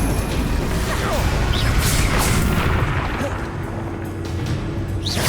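An Incendio fire spell cast in Hogwarts Legacy gameplay: loud rumbling booms and crashes with whooshing bursts of flame, sustained and dense, settling slightly toward the end.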